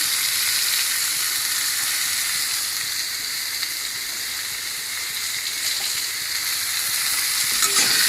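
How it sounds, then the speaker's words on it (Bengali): Bitter gourd is frying in a pan with turmeric powder and salt. A loud, continuous sizzle fills the whole stretch, evenly bright and close up, with only slight shifts in intensity and a faint clink near the end, and no voices. "ভালো করে ভেজে নিই"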